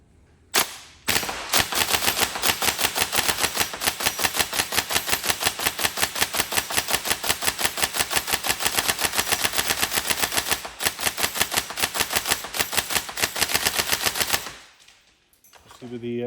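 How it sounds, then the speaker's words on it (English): A Tokyo Marui MK18 Next Gen airsoft electric gun fires a couple of single shots, then a long rapid full-auto burst of sharp clattering cracks, loud and close, ending after about fourteen seconds. "We obviously can test single shot, full auto, make sure that everything's working."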